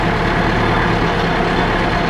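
A tractor backhoe moving dirt by an arena, its heavy engine rumbling steadily and loudly at close range with no break and no voices.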